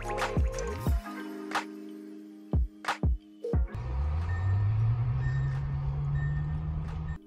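A series of short electronic beeps from a small two-seat electric car's parking sensors, some rising in pitch, followed by a steady low engine-like hum that swells and holds.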